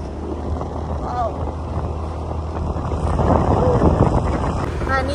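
A solo motorcycle ride along a road on a foggy weekend afternoon: a steady, loud roar of wind buffeting the microphone over a low engine drone that swells slightly toward the end, with no pauses.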